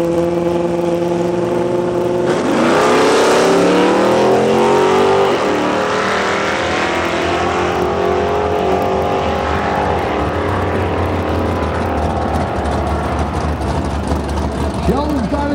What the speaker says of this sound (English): racing for the finish line